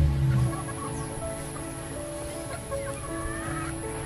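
Chickens at a poultry farm cluck softly and intermittently over a steady background hum, with a louder low burst at the start and no one speaking.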